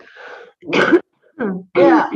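Several short, harsh throat-clearing coughs, four bursts separated by brief pauses, close and fairly loud.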